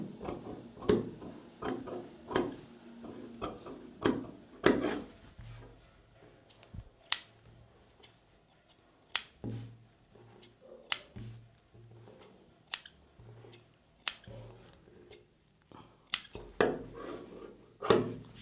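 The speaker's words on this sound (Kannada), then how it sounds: "ನಾನು ಡೈರೆಕ್ಟಾಗಿ ಕಟ್ ಮಾಡ್ತಾಯಿದ್ದೀನಿ" Scissors snip through blouse fabric in a run of crisp, close cuts, some in quick pairs and others spaced apart, with short quiet gaps between strokes and no talking.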